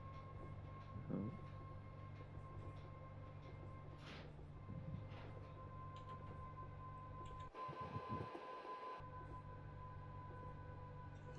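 A long freight train in the Train Simulator game rumbles steadily at a distance, a continuous low mechanical drone with a faint whine, broken briefly by a short dip midway and a few soft clunks.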